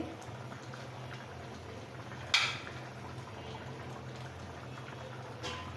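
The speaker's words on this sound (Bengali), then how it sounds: "এখন আমি টমেটো দিয়ে দিচ্ছি।" Fish and potato curry simmering in a pot as tomatoes go in, a steady low bubbling with one brief clatter and a faint knock near the end.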